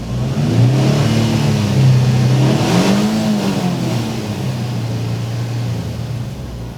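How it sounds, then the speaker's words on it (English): Turbocharged Nissan 350Z engine in a car revving loudly up and down, its deep droning note rising and falling close by before settling into a steady hum. "Got a Nissan 350Z engine with a turbo on it."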